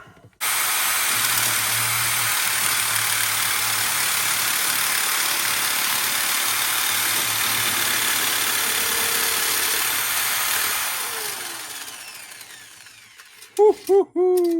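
A Parkside metal nibbler bites through thicker sheet metal clamped in a vise, a loud steady buzzing grind that runs continuously for about ten seconds before winding down, followed by a few short bursts.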